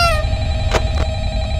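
An old-style telephone rings in the horror video game Five Nights at Freddy's, with a trilling bell tone that fades, followed by two short click-like bursts over a low steady game hum.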